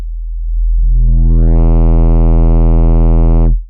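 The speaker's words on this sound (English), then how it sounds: "using the same sine wave as before, driven into a saturator." A sine wave is driven into a saturator, rising from a low hum into a loud, buzzy, distorted tone rich in harmonics that holds steady for about two seconds before cutting off abruptly.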